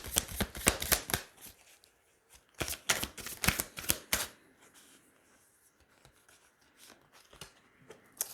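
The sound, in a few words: shuffling tarot cards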